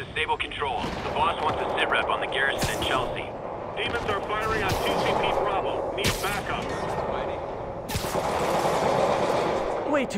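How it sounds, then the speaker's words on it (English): Dense gunfire in Spider-Man Remastered, with rapid bursts and sharp cracks from many weapons going off continuously at close range, mixed with other game effects. "Too many bullets flying over there."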